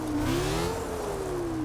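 A Chryslus Rocket 69 in the Forza 6 racing game, its rear-mounted engine droning steadily with a slowly rising and falling pitch, loud and continuous with no talk.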